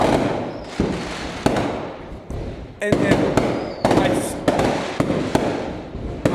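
Fireworks bang repeatedly outdoors in sharp, loud bursts at irregular intervals, with crackling tails between blasts and a person talking over them.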